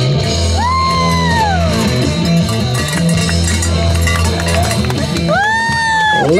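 A rodeo crowd at a youth jackpot bull riding event cheers, yells and whoops loudly after a bull ride. Rising shouts surge near the start and again at the end, with steady crowd noise in between.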